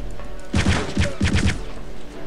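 Sten submachine gun firing in the game Return to Castle Wolfenstein, several quick bursts of rapid muffled shots in clustered groups, punchy and close, with no talking.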